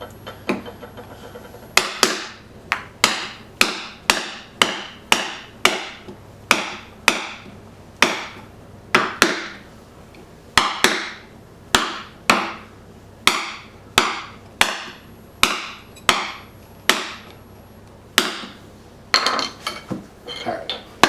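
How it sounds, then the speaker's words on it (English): A woodworking chisel is struck repeatedly with a mallet, chopping through wood fibers to clean out concealed dovetail sockets: some thirty sharp, close knocks in a steady rhythm, each with a brief woody ring, loud and with no talking. "I'm going to take a chop cut here and sever some more fibers"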